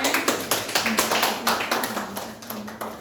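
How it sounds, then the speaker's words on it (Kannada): A group claps in a rhythmic beat, evenly spaced claps repeating throughout at moderate loudness. "ಚಪ್ಪಾಳೆ"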